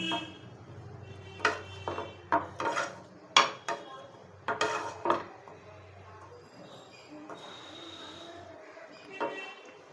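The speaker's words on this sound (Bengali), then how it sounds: "আমি এই পুরো পেঁয়াজ সহ সর্ষে এবং তেলটাকে খিচুড়ির সাথে মিশিয়ে দিচ্ছি এইভাবে" A spoon stirs mustard, onion and oil into khichuri in a cooking pot, giving a string of irregular clinks and scrapes against the metal, clustered early and then trailing off into quieter stirring. No one speaks.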